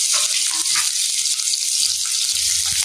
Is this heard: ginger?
yes